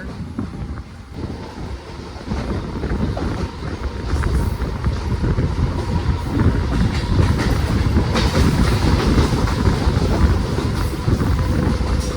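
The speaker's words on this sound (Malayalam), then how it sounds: "വിജയവാഡയിൽ നിന്ന് നരസാപൂർ പോകുന്നൊരു മെമ്മാണിത്." MEMU passenger train from Vijayawada toward Narsapur, just departed Ramavarappadu station, rumbling steadily on the rails with continuous wheel clatter and wind buffeting, heard from on board without talk.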